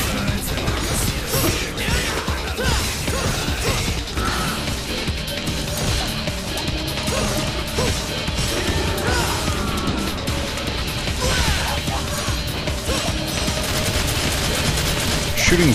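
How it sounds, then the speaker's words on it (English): Rapid bursts of video game gunfire from Devil May Cry 4, fired downward while airborne, crackle continuously and loudly with crashing impacts layered over busy game effects throughout. "Shooting downward while in the air is cool."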